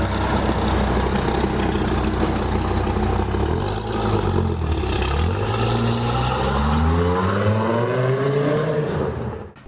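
Hennessey Venom 650R sports car engine runs loudly close by, a dense growl that dips, then climbs in pitch as it revs up before cutting off abruptly at the end.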